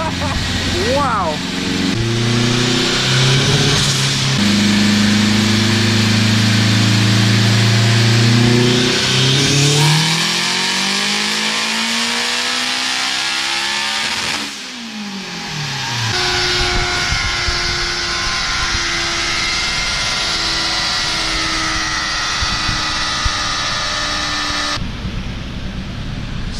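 A turbocharged K20A2-powered Honda Civic wagon engine on a dyno, loud and close, warming up with steady idle and rising revs, a sharp rev sweep and drop midway, then sustained high-pitched running with tonal whine.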